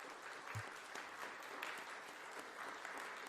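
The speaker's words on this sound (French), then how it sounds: "Donc applaudissez-vous, n'hésitez pas." An audience at a speaking event claps for itself, a dense steady patter of many hands sustained throughout at moderate distance, with no voices over it.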